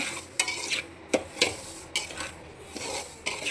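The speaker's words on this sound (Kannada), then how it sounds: "ಸ್ವಲ್ಪ ಗೋಲ್ಡನ್ ಕಲರ್ ಬರೋವರೆಗೂ ಫ್ರೈ ಮಾಡ್ಕೊಳ್ಳೋಣ ರವೆಯನ್ನು" Semolina (rava) being roasted in a pan on high flame for upma, with a spoon scraping and stirring in irregular strokes over a soft, steady dry sizzle, close and fairly quiet.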